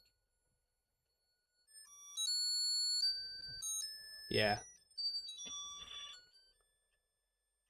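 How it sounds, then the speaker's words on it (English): Electronic Christmas buzzer toy plays a shrill beeping melody in stepped tones, interrupted by a brief burst of noise and a short spoken word, then resuming briefly before stopping. "That with that horrible Christmas buzzer thing."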